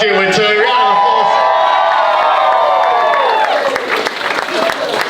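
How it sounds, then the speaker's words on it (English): Guests at a surprise wedding clap and cheer loudly right after the couple are declared locked in, with whoops and a sustained crowd roar, while other voices sound over the celebration. "Round of applause."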